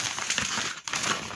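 A plastic shopping bag full of drugstore items crinkles and rustles while handled close to the microphone, a dense, continuous crackling with a brief pause midway.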